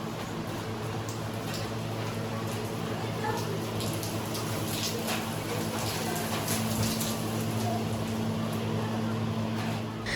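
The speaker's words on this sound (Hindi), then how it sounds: "चलो शुक्र है हमारे यहाँ भी बारिश हुई" Steady rain falling at a home, a continuous broadband patter with scattered louder drops, constant level throughout with a low hum underneath.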